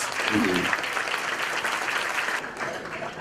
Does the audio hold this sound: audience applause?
yes